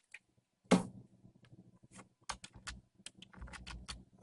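Computer keyboard keys pressed as a key combination to close a glitching game, sharp close clicks with a louder press near the start and scattered taps after, no talking.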